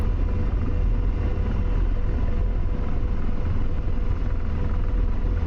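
AH-64 Apache attack helicopter in the flight simulator DCS, a loud steady rotor and turbine drone that holds constant throughout, with no talk.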